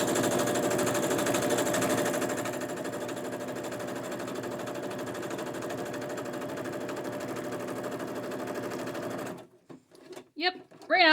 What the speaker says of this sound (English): We survived the sewing machine.